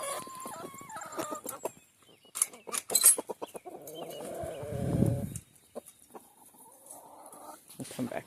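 Chickens in a makeshift run moved around a backyard coop, clucking and squawking in scattered close bursts, with a person talking in between and a brief loud rustle partway through.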